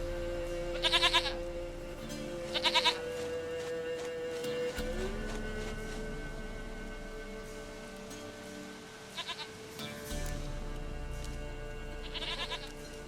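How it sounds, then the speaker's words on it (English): Goat bleats from The Witcher 3 come in short bursts, a few clear cries spaced across the scene over a steady ambient bed of music and low rumble, with some faint rain-like texture. "Goat of mine, dearest,"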